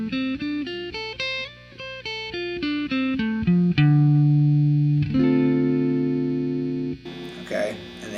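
Electric guitar picking a minor 7th arpeggio in an A-shape position, quick clean single notes climbing and descending through root, third, fifth and seventh, then ringing sustained tones with reverb, played alone.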